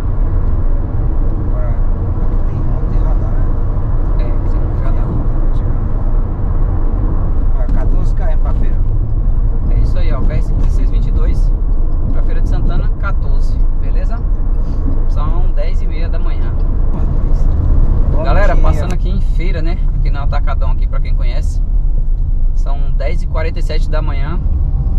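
Heavy trucks and cars rumble along the BR-324 highway in Brazil, a loud continuous low drone with passing vehicles and occasional brake hiss, under steady talking.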